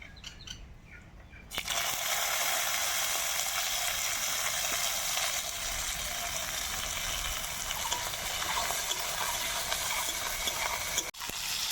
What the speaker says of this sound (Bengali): পরিমাণ মতো হলুদ আর স্বাদ মতো লবণ দিয়ে ডাঁটাগুলো আগে একটু ভেজে নেব।